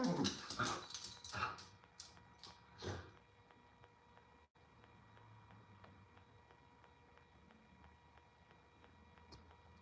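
A pet dog barks and whimpers in a run of sharp close yips during the first few seconds, then falls quiet, leaving only a faint hum.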